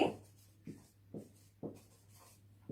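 A sentence being handwritten during a Bengali language lesson: four short, soft scratching strokes spaced about a second apart, close and quiet over a low steady hum.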